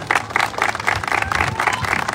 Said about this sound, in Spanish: Un aplauso para nuestra presidenta Edith Escárcega Escontría